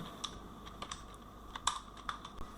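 A computer keyboard typed on while HTML code is written, a quick, uneven run of light clicking keystrokes with a few sharper taps, close and quiet, no talking.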